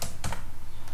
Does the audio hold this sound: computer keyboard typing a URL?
yes